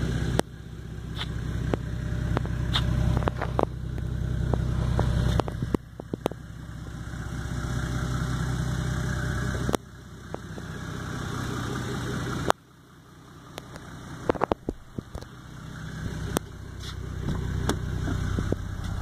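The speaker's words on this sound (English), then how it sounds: "a 99 E300 turbo diesel." A 1999 Mercedes E300 turbo diesel, converted to run on straight and waste vegetable oil, idles close by with a steady low clatter, broken by a few sharp clicks and knocks.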